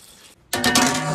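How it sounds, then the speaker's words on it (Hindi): Water poured into a pot of saag cooking in a village kitchen, a sudden loud splashing gush after a brief quiet moment. "साग में पानी डाल देंगे।"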